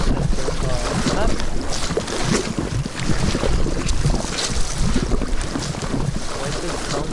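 A continuous rushing, water-like wash of noise fills a game recording, loud and steady throughout with no clear breaks, resembling wind and waves against a boat.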